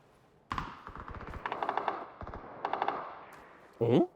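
Rapid bursts of automatic gunfire in PUBG Battlegrounds sound in two quick rattling volleys, followed by a short voice at the end.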